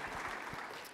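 Conference audience applause at a Tech for Climate talk, a brief, faint wash of scattered clapping from a distant crowd.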